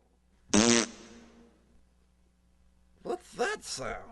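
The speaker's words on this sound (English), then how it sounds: "Farting." A loud, short fart bursts out alone, then after a pause a second spluttering series of fart noises follows in quick pulses.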